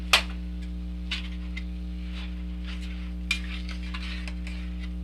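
A coconut sweet mixture for khopra pak is stirred in a pan over a low, constant hum, with a few sparse scrapes and clinks of the spoon.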